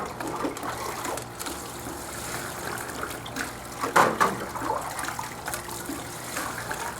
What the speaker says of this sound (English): look at that water, wash that right back and forth